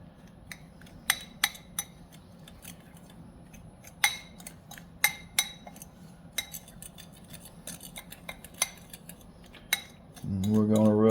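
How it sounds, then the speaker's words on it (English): A spoon scrapes and clinks against a bowl while a dry smoked paprika rub mixture is stirred, giving a series of sharp, irregular taps and scrapes close by, ending in a louder, denser burst. "Give that a stir, get it blended."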